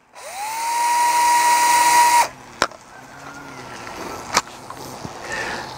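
DeWalt 10.8V cordless tool on an aftermarket eBay battery spinning up at no load, a loud steady whine for about two seconds that winds down, followed by a couple of sharp clicks.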